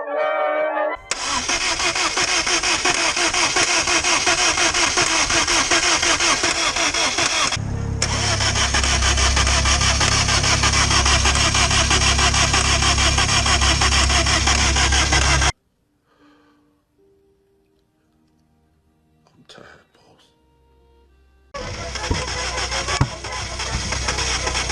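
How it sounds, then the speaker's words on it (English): A long-idle project car's engine cranks on its first startup in 12 years, a loud continuous starter whir and churning for about fifteen seconds, then near silence with faint clicks before cranking resumes. "I'm gonna crank it"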